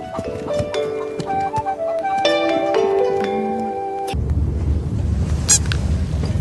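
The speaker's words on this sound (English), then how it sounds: "Roosters crowing in the daytime." Several crowing rooster calls overlap in tuneful bursts, then a deep, loud earthquake rumble takes over and continues to the end.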